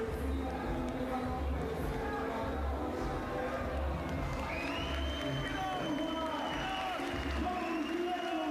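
A home crowd in Matosinhos reacts after Portugal's basketball loss to France in a FIBA World Cup 2023 qualifier, a steady arena roar of voices and shouts with scattered whistles, under continuous commentary talk.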